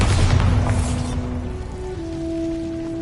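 A Bombarda blasting spell in Hogwarts Legacy goes off with a loud, crackling boom that fades into a sparkling rumble, then a lingering magical hum, with no voices.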